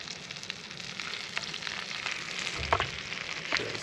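Rainbow trout fillet frying gently in butter in a pan, a steady soft sizzle with light crackles and a couple of sharper pops near the end, close and continuous with no talking.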